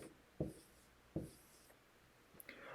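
Pen or pencil writes on paper during a math worksheet lesson, two quick, soft strokes followed by a pause and a few lighter scratches near the end, heard close and quiet without talk.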